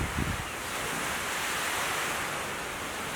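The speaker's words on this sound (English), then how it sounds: "A bit windy out there too." Strong wind blows outdoors at a wood-splitting spot, a loud, broad, continuous rush buffeting the microphone with no other clear sounds.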